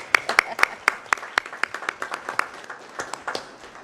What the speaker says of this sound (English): So that warrants a big applause.